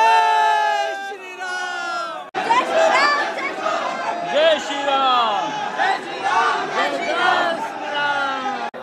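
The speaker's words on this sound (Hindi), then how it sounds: "ये है हनुमान गढ़ी और देख सकते हैं कितनी भीड़ है" Dense crowd of devotees at Hanuman Garhi temple, a loud overlapping mix of chatter, calls and chanting shouts, close and constant with many voices talking over one another.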